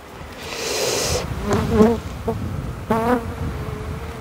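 Honeybees buzz in a dense, steady drone around an opened hive during a spring inspection, close and loud, while a voice briefly speaks over the swarm.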